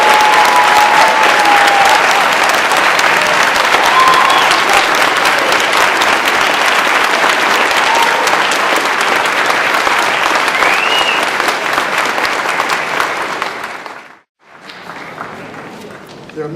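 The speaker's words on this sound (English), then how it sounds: "So let's give these 2 young men a round of applause." An audience at a 2013 student recognition ceremony applauds two scholarship students with loud, dense clapping that holds steady for about fourteen seconds, then cuts off abruptly before a brief quieter tail.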